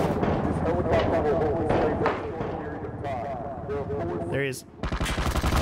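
Gunfire rattles in the online shooter Ring of Elysium, with loud, dense bursts of shots filling most of the stretch. A player speaks briefly over the gunfire, and a final volley of rapid cracks closes it out.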